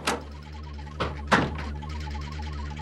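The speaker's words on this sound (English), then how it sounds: "Open the door." A door being opened in an old radio drama, three thumping knocks or clunks of a latch and door against a low steady hum, close and fairly loud.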